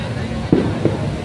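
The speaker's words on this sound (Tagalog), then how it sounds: "Ang narinig niyo po putok Ay, signal. ay simbolo ng pagpumarsya ng sektor ng manggagawa." A firecracker bang signals the start of a workers' march at a rally in Liwasan Bonifacio, heard as two fairly faint sharp reports about a third of a second apart against steady crowd noise.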